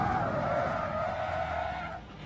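Race car tyres skid and squeal through a hard brake lock-up during a Caterham motorsport race at Brands Hatch, a loud sustained screech lasting about two seconds before fading.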